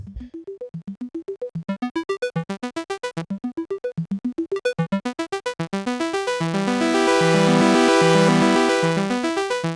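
A bright Critter & Guitari Pocket Piano arpeggiator plays rapid repeating note patterns that climb in pitch, then swell into a dense, sustained buzzing chord.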